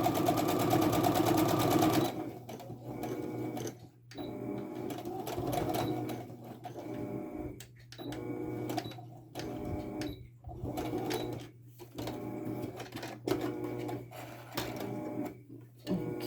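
A sewing machine stitches the seam of a fabric snap bag, a rapid mechanical whir in short bursts separated by brief pauses, close and fairly quiet.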